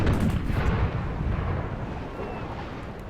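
Naval cannon volleys in Imperial Splendour North Sea battle: deep rumbling artillery booms rolling together and fading, loud and close at first then settling into a dull sustained roar.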